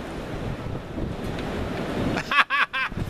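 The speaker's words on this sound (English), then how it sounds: "Cold, cloudy, and windy" Wind gusts across an outdoor microphone on a cold, cloudy day, a steady broadband rush that swells briefly near the end.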